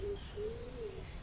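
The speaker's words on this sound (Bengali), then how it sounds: "এইখানটাতে দেখো শুধু কত পায়রা, সাদা পায়রা" White pigeons at Kakatiya Zoological Park give soft, low cooing calls, a few drawn-out coos in steady succession close by, over a constant outdoor hum and no talk.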